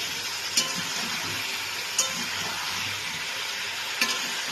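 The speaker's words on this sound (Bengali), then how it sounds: "এই কুমড়োটার সাথে এই মশলাগুলোকে দিয়ে একসাথে আমি কিছুক্ষণ এটাকে কষাবো" Pumpkin being stir-fried with spices for a hilsa fish head ghonto, a steady soft sizzle with faint scraping stirs coming back every second or two, close and alone with no talk.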